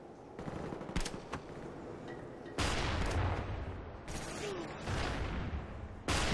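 Rapid bursts of automatic gunfire in a first-person shooter match, fairly quiet overall, with intermittent volleys and sharp single shots separated by short gaps.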